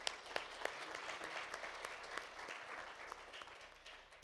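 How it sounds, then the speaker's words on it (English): Audience at a plant phenotyping symposium applauding the speakers at the close of a session, faint and distant clapping heard steadily throughout. "And also a big applause to all of our previous speakers."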